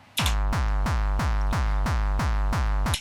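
An artcore kick drum with a pitch envelope sweeping each hit downward thumps about eight times in a steady fast pulse. The hits are loud, distorted and booming, with a punchy falling tone, and nothing else plays.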